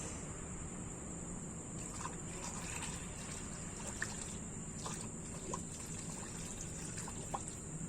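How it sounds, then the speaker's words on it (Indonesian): Radiator water poured slowly through a funnel into a Wuling Cortez engine, a faint steady trickle with occasional soft gurgles and drips over a quiet background hum. "Kita mengisinya menggunakan corong supaya air radiatornya tidak terbuang-buang."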